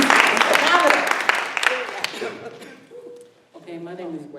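An audience at a panel discussion on turning neighborhood blight into beauty claps, with dense applause that swells loudly and then fades over a couple of seconds as voices talk through it, before one voice speaks clearly alone.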